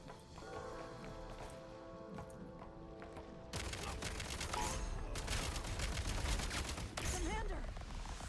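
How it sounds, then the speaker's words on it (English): Gunfire crackles in a video game firefight, rapid bursts and shots over a dense, noisy background that grows louder partway through, with a voice talking over it. "Oh, someone's shooting at us."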